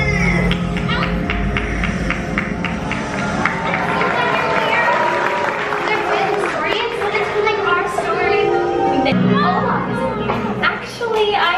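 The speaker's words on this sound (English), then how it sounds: "The crowd goes wild." A crowd cheers and chatters loudly at the end of the Frozen Ever After ride's holiday ending, a dense, sustained wash of excited voices and children's shouts lasting the whole stretch without letting up.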